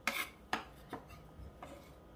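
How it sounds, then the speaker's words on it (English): Garlic is chopped with a kitchen chopping gadget in a few quick, sharp, close clicks and taps, spaced irregularly and fairly quiet, with no talking. "Way to chop garlic."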